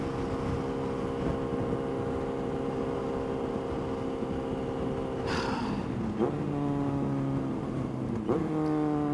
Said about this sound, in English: I'm actually riding his bike right now.